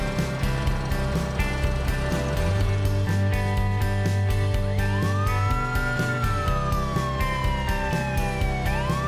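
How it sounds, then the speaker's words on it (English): An ambulance siren wails over a bouncy music backing, rising and falling in long sweeping glides. No voices are heard. "Ambulance."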